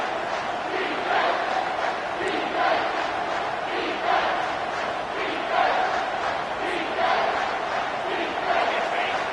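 A stadium crowd in the Madden American football video game roars and chants in steady, swelling waves, a loud sustained wash of many voices with rhythmic surges throughout.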